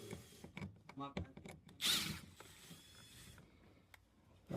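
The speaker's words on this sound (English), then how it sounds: "I'm going to use my drill to remove the 3 screws" A power drill whirs in a short burst removing Phillips screws from a 5th-gen Toyota 4Runner's front speaker area, between moments of speech, with clicks and handling sounds around it.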